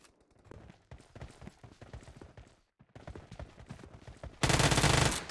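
Gunfire in a PUBG Mobile team deathmatch in the arena: a string of quick, punchy shots and short bursts, ending in a sustained loud blast of automatic fire.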